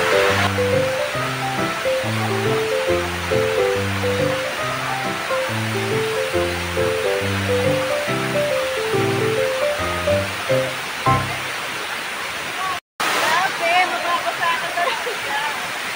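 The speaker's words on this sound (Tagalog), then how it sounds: "Kahit may tumatalsik sa'yo, galing sa waterfalls." A waterfall at Mandai Bird Paradise, an outdoor bird park, gives a constant broadband rush of falling water, partly covered by melodic music for most of the stretch.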